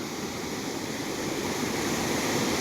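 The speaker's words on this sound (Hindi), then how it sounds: "पानी कितना तेज फ्लो हो रहा है यहाँ से" Fast-flowing mountain river tumbling over rocks, heard from the bank as a loud, steady broadband rush with no pauses and no voices.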